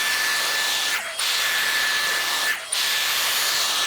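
A Dyson Airstrait dryer-straightener blows on hair with a loud, steady airy roar and hiss, close to the ear, broken by two brief dips as it moves along the hair.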